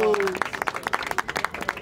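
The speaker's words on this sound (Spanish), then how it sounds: "¡Aplausos!" Crowd applause and claps at a freestyle rap battle, a dense run of sharp hand claps over noisy crowd sound, with a voice shouting near the start.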